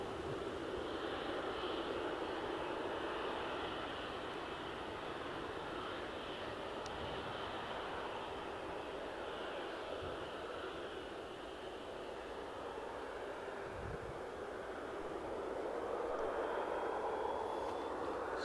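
Ryanair airliner departing Edinburgh Airport, a broad steady engine roar held at moderate distance for the whole stretch, swelling slightly toward the end with no talk over it.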